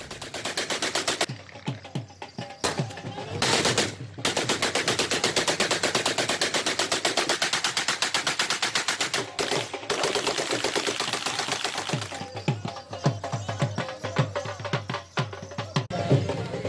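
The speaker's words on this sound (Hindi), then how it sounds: "शादी की तकरीब में हवाई फायरिंग करके कानून की धज्जियां भी उड़ाई जाती हैं।" Aerial gunfire at a wedding celebration crackles in loud rapid bursts, the shots coming in long rattling volleys with a few short breaks between them.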